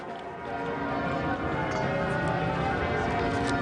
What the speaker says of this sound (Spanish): Las campanas sonaban a rebato